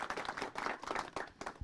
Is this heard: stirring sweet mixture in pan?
no